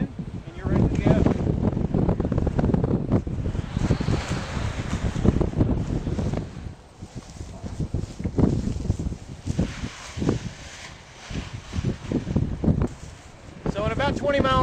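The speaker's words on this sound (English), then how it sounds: "About 20 miles an hour of wind" Strong wind of about 20 miles an hour while flying a 3-meter Rush Pro trainer kite from HQ, heard as steady, loud gusting buffets and rumbling wind noise against the microphone that surge and ease over the whole stretch.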